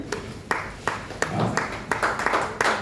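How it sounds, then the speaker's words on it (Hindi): Audience applause greeting a father-and-son pair of swimmers at an honouring ceremony, heard as a run of sharp claps that builds into denser clapping, with some talk in the background. "हम ताली तो बजा सकते हैं इतना बड़ा काम करने वालों के लिए, इतने अच्छे तैराकों के लिए"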